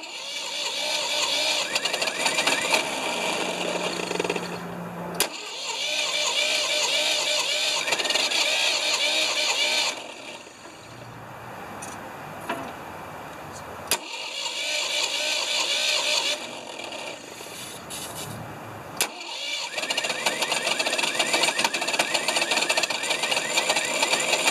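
An old Ford 2600 tractor engine cranks repeatedly on starting fluid in long whirring bursts separated by brief pauses, loud and close, catching roughly between attempts.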